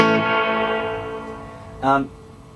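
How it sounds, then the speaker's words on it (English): An electric guitar note rings out through an amp with reverb turned up to 10, decaying slowly in a long reverberant tail, followed by a second, shorter strum that also lingers. "if we turn the reverb up to 10, you can hear the note kind of stays around for a long time"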